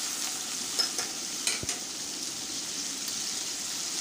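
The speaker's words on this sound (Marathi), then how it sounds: "कॉर्नचे दाणे ते सुद्धा आपण छान असे तेलामध्ये परतून घेऊया" Corn kernels fry in hot oil in a pan with a soft, steady sizzle, and a few stirring clicks and taps fall around the middle.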